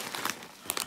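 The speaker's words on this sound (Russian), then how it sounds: "Буду доставать из пакетов, что попадется." Plastic shopping bags from a grocery store crinkle and rustle as they are unpacked, with short bursts of close, dry crackling toward the end of the moment.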